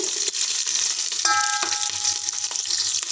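Sliced onions and green chillies hitting hot oil in a pan, a loud close sizzle with scraping stirs and a brief metallic ring from the utensil, no talking.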